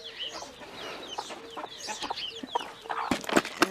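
A hen clucking on a small homestead, a run of short, repeated clucks at close range with other fowl faintly around, growing busier and louder toward the end.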